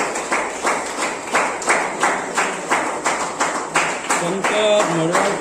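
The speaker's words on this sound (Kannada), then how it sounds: "ಜೋರಾದ ಚಪ್ಪಾಳೆ ಮುಖಾಂತರ ಇವರಿಗೆ ಸ್ವಾಗತ ಮಾಡಿ." An audience at a Happy Soil training felicitation ceremony claps in a steady rhythmic beat to welcome Shankar Madiwal, loud and close, with voices rising toward the end.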